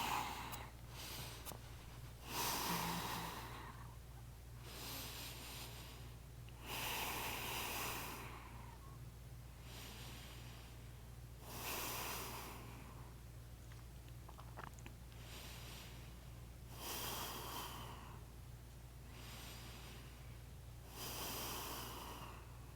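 Slow, deep breathing during a strong flow yoga practice, each soft inhale and exhale heard close and faint in a regular rhythm over a low steady hum.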